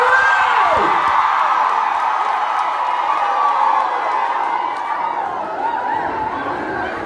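Crowd at a Kikuyu music gathering cheering and whooping, a loud, steady wash of voices and shouts held throughout, with a few sharper calls rising above the din.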